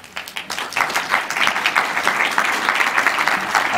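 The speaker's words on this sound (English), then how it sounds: "thank you for the round of applause, especially from House members" Audience at a Vermont legislative briefing giving a round of applause, starting with a few claps and swelling into loud, sustained clapping from a crowded room.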